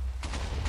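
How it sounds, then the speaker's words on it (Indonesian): A few booming bursts go off in quick succession over a low rumbling background, explosions in Minecraft, with no talking. "Wow, ada suara ledakan tuh."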